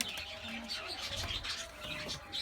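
Turkish Portakal costume pigeons cooing in a loft, soft repeated low coos with a few faint chirps, fairly quiet and close, over a light background rustle.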